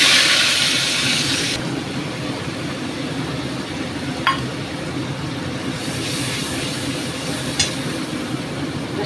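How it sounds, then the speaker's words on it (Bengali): Ginger-garlic water poured into a hot pan for tangra fish curry gives a loud sizzling hiss at first that settles into a steady bubbling simmer, with a couple of small clinks. "আদা রসুনের জলটা দেব।"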